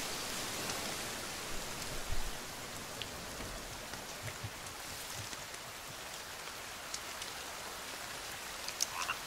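Rain pours steadily in The Forest survival game, a dense even hiss with scattered drop ticks and soft low thumps, no voices.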